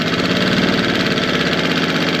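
A Tohatsu 6hp outboard motor idles up close, a steady, fast, even putter with a slight knock, running alone at moderate volume.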